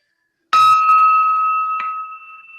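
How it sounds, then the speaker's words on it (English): A bell struck to open a noon Rotary Club meeting in Newport, Oregon: one bright, clear strike that rings on with a long sustain, then a softer second tap as the tone slowly fades. "so I'll go ahead and ring the bell"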